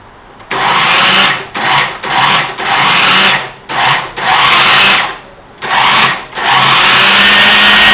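Grinding ingredients for alcapurrias with a coarse, loud rasping that comes in bursts, about seven strokes of varying length separated by short pauses, close and without talking.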